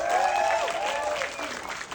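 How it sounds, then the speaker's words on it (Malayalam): Audience applause for actor Jojo at a Thug Life film promotion event, a dense, steady burst of clapping from a large crowd that carries through the whole moment and eases slightly toward the end. "ജോജോ ചേട്ടനെ ഒരു കൈയടി സ്പെഷ്യലായിട്ട്"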